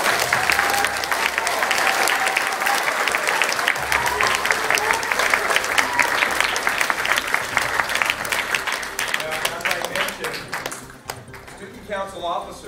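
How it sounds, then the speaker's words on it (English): Students at a school assembly get a big round of applause: dense, steady clapping from a large crowd fills the room, fading toward the end. "I want to recognize all of these 22 students with a big round of applause."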